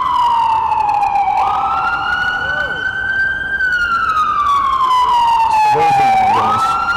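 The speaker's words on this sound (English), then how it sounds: "There's an ambulance." An ambulance siren wails loudly through a New York City neighborhood, its tone sweeping slowly up and down in long cycles and close by, with people talking underneath.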